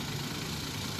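A Maruti WagonR's three-cylinder engine idles with noticeable vibration, making a steady, dense rumbling hum that stays even and unbroken throughout.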